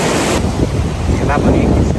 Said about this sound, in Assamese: গ্লেচিয়াৰৰ পৰা যিটো পানী আহিছে ন, সেই পানীটো শিল বালি গোটেইবোৰ উটুৱাই লৈ আহি আছে